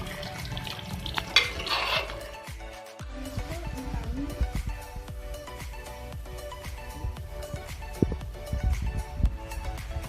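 Green eggplant and potato being stirred and mixed in a pan, with repeated scraping and clinking of the spoon against the metal over a low sizzle, close and fairly loud, with no talk.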